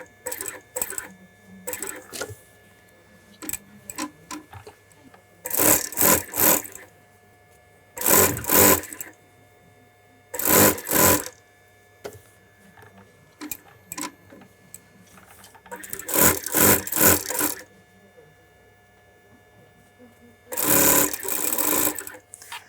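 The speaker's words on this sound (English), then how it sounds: "And you sew the quarter" Sewing machine stitching the quarter of a bespoke shirt in a London shirtmaking workshop, running in five loud bursts of a few seconds each, separated by quieter handling noises and light ticking between runs.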